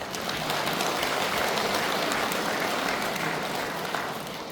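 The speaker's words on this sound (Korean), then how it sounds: "구법대 형제 여러분께 찬양의 박수를 부탁드립니다" Sustained applause from a congregation at a Buddhist Nirvana Day dharma service, dense and steady throughout, tapering slightly at the end.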